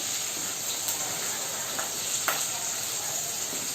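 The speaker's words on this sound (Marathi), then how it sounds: "आता आपल्या इथे कांदा, लसूण, मिरची, आलं सगळे बघा चांगलं लाल फ्राय झालेलं आहे" Onion, garlic, green chili and ginger frying until reddish in a pan for lasooni paneer, producing a steady hissing sizzle with a few faint clicks of stirring, close and continuous, without speech.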